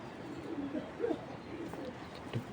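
Soft, low cooing from a young racing pigeon being handled, a few faint murmured notes close by in a quiet room.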